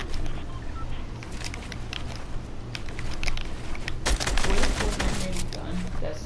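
Rapid automatic gunfire from a Fortnite match, a dense stream of sharp clicking shots running throughout and growing louder and busier near the end, mixed with game sound effects and a background hum.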